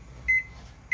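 Oven control panel beeps while the temperature is set for roasting a turkey, two short, clear electronic tones about half a second apart, close and alone.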